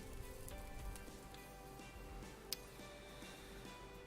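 Steady pattering of rain in the Minecraft game with the Better Than Wolves mod, a soft continuous hiss of drops with a faint tick or two, no talking.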